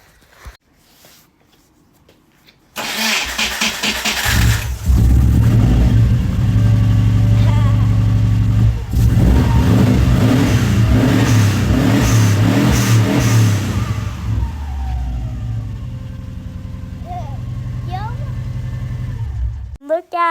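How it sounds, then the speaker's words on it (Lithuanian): A car engine starts after a near-silent opening and runs loud and close, revving repeatedly with rising and falling pitch, then settles toward a steadier idle, with brief voices near the end. "Galim paklausyti, kaip dirba variklis."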